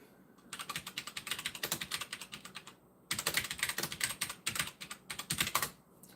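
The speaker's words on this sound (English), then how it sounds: "Heaviest typing ever." Fast, heavy typing on a computer keyboard, dense rapid key clacks in two long bursts split by a short pause, close and crisp with nothing else heard.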